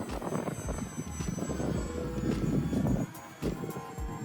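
A small SIG Four-Star 20 RC plane on a 3S electric setup flies outdoors, its steady motor drone and propeller whine carrying on with wind noise, then dipping and returning near the end.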